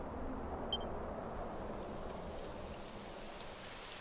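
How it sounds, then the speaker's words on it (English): Rain falls in Dragon Quest 11, a soft, steady, even hiss with no distinct drops, faint and continuous with no voices. "It would have to go and start raining, wouldn't it?"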